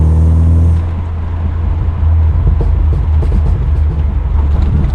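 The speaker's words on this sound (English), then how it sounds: "Exhaust is warmed up a little bit." Loud, close exhaust of a home-built Mark III car revving hard, a deep steady idle drone breaking into rough, crackling bursts of throttle that keep rumbling through to the end.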